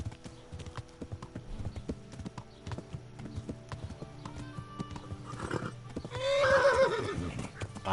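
Horse in the video game Kingdom Come Deliverance, its hooves clip-clopping in a steady walking rhythm, then a loud, close neigh near the end.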